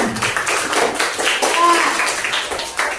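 Classroom of students clapping for a student group after their presentation: a brisk, uneven patter of many hands, moderately loud and close, with faint voices mixed in.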